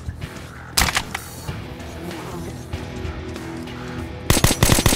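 Gunfire in the survival video game Doomsday: two sharp loud bursts, one early and a rapid cluster of shots at the end, over a low rumbling game background.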